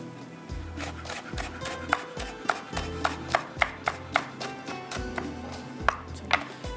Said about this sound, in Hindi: बहुत अच्छे से चॉप कर लीजिएगा ताकि हरी मिर्चों को जब आप पराठा और समोसा खाएं तो बड़ा पीस ना आए